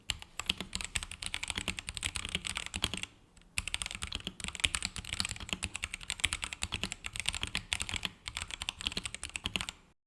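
Rapid, continuous typing on a Royal Kludge mechanical keyboard: dense, even key clatter with a deep, bassy tone, close and clear, broken by two short pauses, with no voices.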